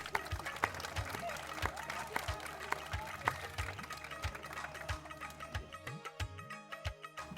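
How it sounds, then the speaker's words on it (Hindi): Clapping and crowd noise at a village women's talent show, mixed with a steady beat and music-like tones, the clapping fading near the end as the sound thins out. "तालियां और जोरदार"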